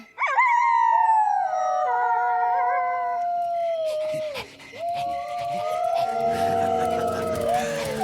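Young cartoon wolf cubs in the Tatonka animated series howling together, long wavering cries that rise, sag and start again, loud and close, with faint rustling and music under the later howls and no speech.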